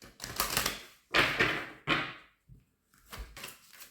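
A deck of cards shuffled by hand at a table, giving three quick riffling bursts of crisp flutter followed by softer tapping and squaring of the cards, close and alone.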